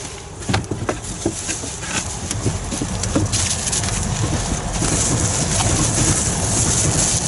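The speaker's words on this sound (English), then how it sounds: "There's a train going by" A train on a Network Rail line rolls past nearby with a steady broadband rumble and rattle that builds and holds loud throughout, heard outdoors with no talking.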